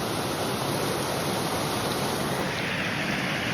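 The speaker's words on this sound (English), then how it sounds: "I'm currently on the edge of a massive waterfall." A massive waterfall roars from the edge of a hiking loop trail, a steady, loud broadband rush of falling water filling the whole stretch without pause or voices.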